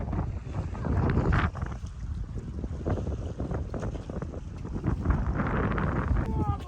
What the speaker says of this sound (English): First night, really windy, so we're gonna kind of hang out and camp.